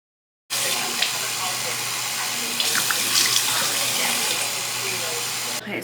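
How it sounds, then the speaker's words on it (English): A bathroom sink tap runs at full flow for washing the face, a loud, close, steady rush of water that starts abruptly after a moment of silence and continues almost to the end. "I'm gonna go ahead and wash my face and come back"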